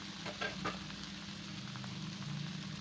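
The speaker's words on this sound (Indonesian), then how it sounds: "Ditumis sebentar. Baru kita masukkan 250 gram tauge yang sudah kita cuci bersih dan 250 gram tahu" Bean sprouts and fried white tofu sizzle as they are stir-fried together in a pan, a steady, moderately faint crackle with light scraping, no talking.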